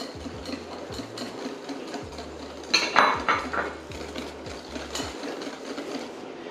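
A utensil stirs simple yogurt cake batter in a bowl as oil is added, making rhythmic scraping and repeated light clinks against the bowl, close and clear, with no talking.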